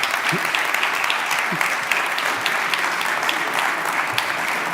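An audience at a panel debate on the film and audiovisual sector applauds the departing speakers, a sustained even sheet of many hands clapping at close range, with no break in the sound.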